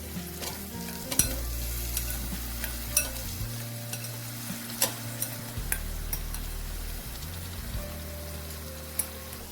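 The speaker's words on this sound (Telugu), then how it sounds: "మనం ఉడకబెట్టుకున్న చికెన్ ఉంది కదా, అవి వేసి ఇది కూడా నూనెలో బాగా వేయాలి." Boiled chicken frying in hot oil for a pickle gives a steady, close sizzle, with a spoon scraping and clinking against the pan in sharp, irregular strokes throughout.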